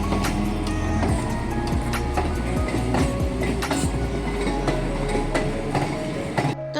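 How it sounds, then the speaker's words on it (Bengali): A local train pulls out of a station bound for Ranaghat, a steady rumble with clattering wheel clicks and rattling carriages, fairly distant, before it cuts off at the end. "এই ট্রেনটা এবার ছেড়ে দিয়ে চলে যাচ্ছে"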